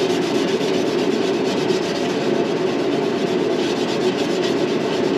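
A worn copper Brillo pad scrubs the painted bumper of a barn-find Ford Fairlane, making a loud, continuous, close abrasive rasp that never pauses.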